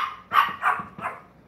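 A dog barks three times in a steady rhythm, sharp and fairly close, with short pauses between barks and nothing else around them.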